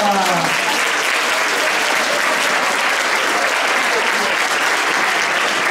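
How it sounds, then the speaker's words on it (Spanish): Loud, dense applause from a crowd at a school folk gathering, continuous and even throughout with a brief voice at the very start. "Un aplauso para el paisanito."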